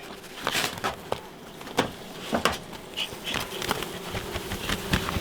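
Carniolan honey bees buzz steadily around the listener, a dense droning hum with occasional louder passes as individual bees fly close.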